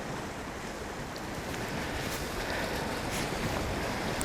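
Strong wind blusters across a winter fishing spot by the sea for black porgy, making a constant, dense roar of gusts mixed with wave wash and buffeting against the microphone.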